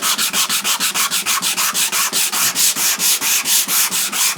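Sandpaper rubbed by hand over a glued wooden cupboard door panel, a fast steady run of rhythmic back-and-forth strokes, close and loud with no talking.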